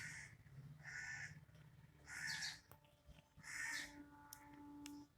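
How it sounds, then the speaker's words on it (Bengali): Birds outdoors giving harsh, crow-like caws, three or four loud calls spaced about a second apart over a faint background, with no talk. "পাখির শুধু চিকচিক চিকচিক শোনো"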